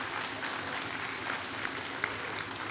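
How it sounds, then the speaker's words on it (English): A live audience claps through a full round of applause at a guest artist's glass art demonstration, a dense, steady patter of hands filling the room for a few seconds with no voices over it. "How about a big round of applause?"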